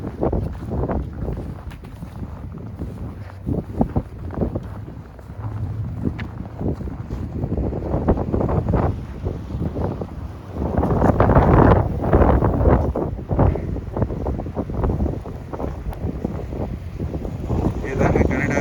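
Strong wind gusts roar during a heavy Toronto snowstorm, blowing snow across a pathway, with a steady, close rushing buffet on the microphone that swells louder midway and continues throughout.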